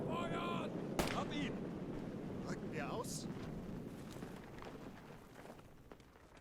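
Grenades burst in a trench fight in the WWII game Call to Arms: Gate of Hell, with one sharp blast followed by wind-like rumble, distant gunfire and shouted voices.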